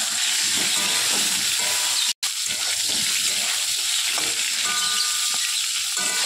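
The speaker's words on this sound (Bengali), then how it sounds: "পটলটাকে দিয়ে দেবো ভাজার জন্য" Pieces of pointed gourd (potol) fry in hot oil in a home kitchen, giving a steady, close sizzle and hiss throughout, broken by one brief moment of silence partway through.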